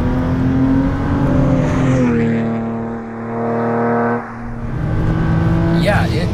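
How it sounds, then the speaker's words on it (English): A tuned 2011 BMW 335is making about 470 horsepower accelerates hard to 7000 rpm, its engine note climbing loudly through the gear, dipping briefly at a shift and then pulling again, with people talking inside the car. "it definitely pulls all the way to 7 grand"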